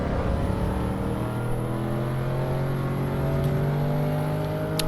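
Audi RS6 engine pulling hard on the Nordschleife, a loud, steady rising drone with clear harmonic tones climbing gradually as it accelerates, close and continuous throughout.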